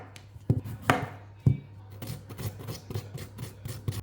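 A knife cuts a potato on a chopping board, with a handful of sharp, close chops and taps in an uneven rhythm, followed by lighter scraping and rubbing sounds.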